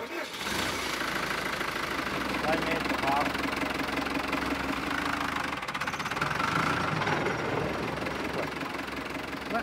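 A tractor engine runs on a Swiss farm, giving a steady, loud, close rumble with a knocking diesel-like texture that holds throughout without pause.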